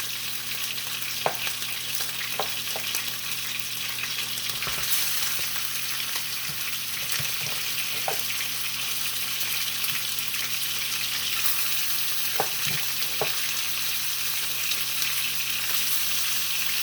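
Beef short ribs searing in a pot, a steady loud sizzle running throughout with occasional small pops and spatters, no talking.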